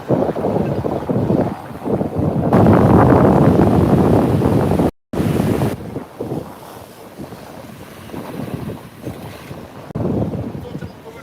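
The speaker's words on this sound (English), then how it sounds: "I'm a little shaky with the wind blowing me around a little bit here" Wind gusts buffet the microphone on a seaside town boardwalk in Las Palmas, Gran Canaria, a loud roaring rush that swells and fades with waves and surf behind it, dropping out briefly midway.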